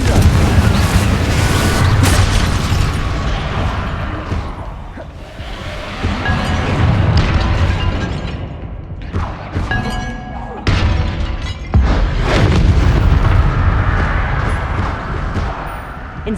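Hogwarts Legacy video game battle against Inferi, with loud spell blasts, booms and shattering crashes following one another almost without pause.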